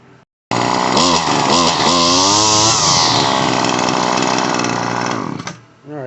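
A Shindaiwa T261 string trimmer engine runs roughly nearby, a loud buzzing two-stroke whine that wavers and surges in pitch for several seconds before cutting off abruptly, with no one talking.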